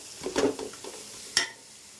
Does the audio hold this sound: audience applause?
no